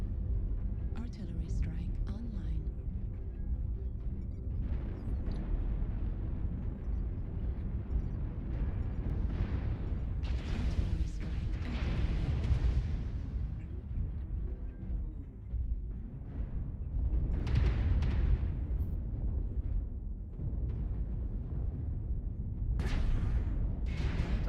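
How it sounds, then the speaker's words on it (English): Artillery strike explosions in a video game, with a dense rumbling barrage of booms and blasts rolling on and off under a continuous low roar, loud and sustained throughout. "Artillery strike online."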